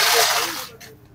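A single sharp crack as a dry fruit shell is split open with a cracking tool at a dry fruit stall in Karachi's Jodia Bazar, close and brief, then quickly fading.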